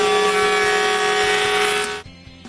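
Wooden boards fed into a spinning power tool bit during cremation urn box making, a steady high whine with cutting noise that stops abruptly near the end, loud and close.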